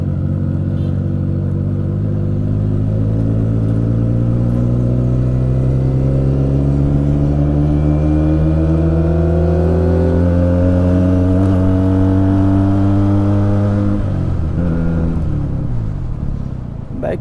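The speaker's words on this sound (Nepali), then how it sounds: "बाइकको साउन्ड नै बब्बालै खायो यो बाइकको नि" A motorcycle engine hums loud and close in a long, steady run, its pitch climbing gradually as it revs higher, then dropping briefly near the end.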